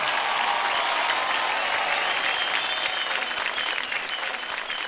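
A studio audience at a televised children's dance competition gives dense, sustained applause that stays loud and even from start to finish, with little talk.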